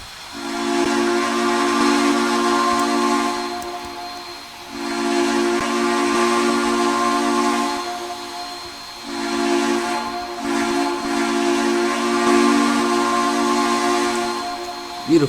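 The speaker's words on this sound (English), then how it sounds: "Beautiful whistle. I love the long bell whistles." A loud steam whistle from a Southern 630 locomotive in the Trainz simulator sounds in three long, sustained blasts, each with a rich chord-like tone, separated by brief pauses.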